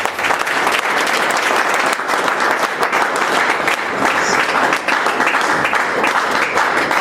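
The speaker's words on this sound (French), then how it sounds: "On va acclamer le Seigneur pendant qu'elle arrive" A church congregation applauds steadily and loudly throughout, dense continuous clapping from a large crowd welcoming a sister's arrival.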